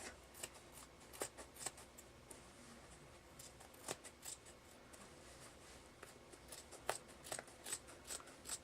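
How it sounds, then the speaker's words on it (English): Scissors cut straight across a piece of fabric for a handmade notebook cover, producing quiet, irregular snipping and rustling close by, with no voices. "And then I'm just gonna cut straight across."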